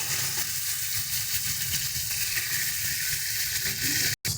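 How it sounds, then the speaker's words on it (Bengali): Small chuno fish are turned over while frying in hot oil, a steady bright sizzle punctuated by soft clicks and scrapes of the spatula, with a brief dropout near the end. "দেখো সুন্দর করে উল্টে পাল্টে আমরা মাছগুলোকে ভেজে নিচ্ছি।"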